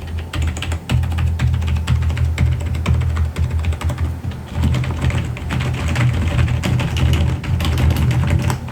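Steady, fast typing on a freshly reassembled computer keyboard, dense clacking keystrokes close up and continuous with no talking.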